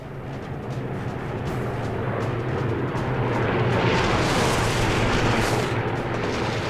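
A sustained, loud roar of rapid machine-gun fire from a P-51 fighter plane mixed with engine drone, continuous and dense without clear separate shots.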